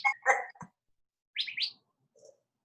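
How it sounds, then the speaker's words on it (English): Birds chirping outdoors: a few short, bright, high tweets in two quick bursts, one a rapid doubled chirp, separated by near silence, with a faint lower call near the end. "These birds are so distracting."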